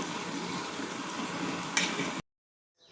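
Snacks frying in a pan of oil for catering give a steady, dense sizzling and bubbling hiss at moderate level, then stop abruptly into silence.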